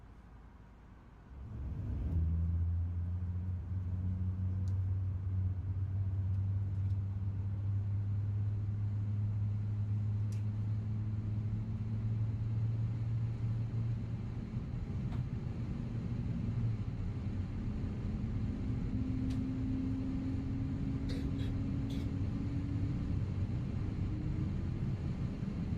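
An Airbus A350 starts its engines in Microsoft Flight Simulator: after a quiet opening, a low rumble swells in and holds as a steady drone, with a rising whine building slowly beneath it, subdued and fairly low in volume.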